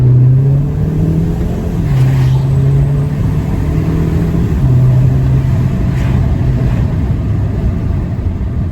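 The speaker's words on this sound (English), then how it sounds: "Let's just get full throttle." Volkswagen Jetta with a new uprated oil pump pulling at full throttle, heard from inside: a loud continuous engine drone whose pitch climbs steadily, briefly drops at a gear change, then climbs again over road rumble.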